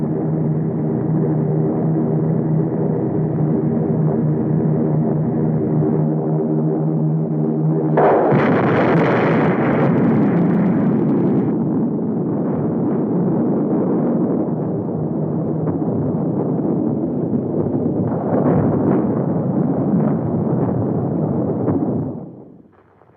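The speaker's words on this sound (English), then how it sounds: "The atom bomb has been dropped on the United States of America." An atom bomb blast from an old film soundtrack, a loud sustained roaring rumble that swells sharply partway through and keeps thundering until it cuts off abruptly at the end.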